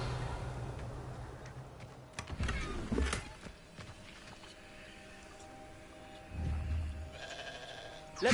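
Sheep in Hogwarts Legacy bleat in two short bursts, separated by a quiet stretch with faint ticking in the background.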